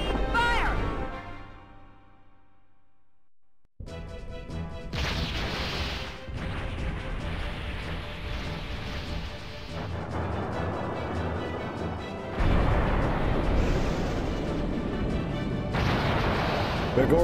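Ship cannons boom repeatedly during an airship battle in the video game Skies of Arcadia, loud and dense over a swelling orchestral score, with a quiet lull before the barrage kicks in.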